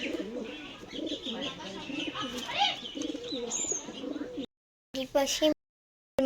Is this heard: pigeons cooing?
yes